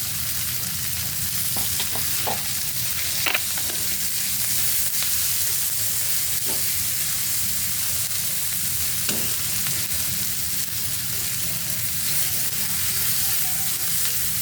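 Onion and tomato fry in a pan with a loud, continuous sizzle and hiss that holds steady for the whole stretch, with a few faint clinks of stirring and no talking.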